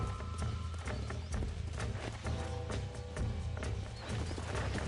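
Horse hooves clip-clopping in Red Dead Redemption, a steady trotting rhythm close by with a whinny, set against game background sound and no talk.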